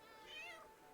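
A single short cat meow in Baldur's Gate 3, soft and fairly quiet, rising and falling in pitch over about half a second.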